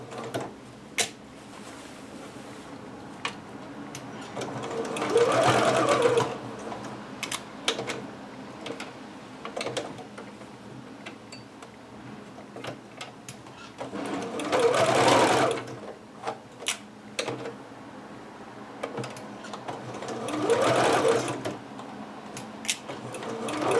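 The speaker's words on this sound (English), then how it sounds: "Finishing up here at the end. Doing a good back stitch." A sewing machine stitches a Butterick 6322 pattern garment and finishes with a back stitch. The motor comes in three loud, steady bursts of several seconds each, separated by quieter handling noise, with no talking.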